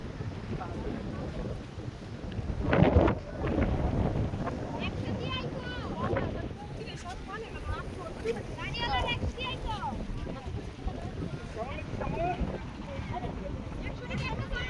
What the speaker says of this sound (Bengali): এই দেখুন ঝড় উঠছে ছোটোখাটো ঝড় বাতাস